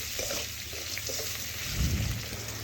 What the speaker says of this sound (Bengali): নাড়াচাড়া করে আলুগুলো আমি লাল লাল করে ভেজে নেব